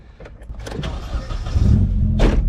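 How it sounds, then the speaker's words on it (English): A passenger car, quieter than another car, drives past at a spot, its engine swelling steadily and growing louder toward the end. "Car's so much quieter than his"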